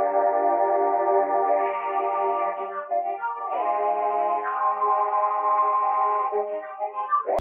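Long sustained synth chords from a CS80 patch with the Scary Hours preset, thick and slightly detuned with a swelling, wavering texture, shifting to a new chord midway and held steadily loud with no talking.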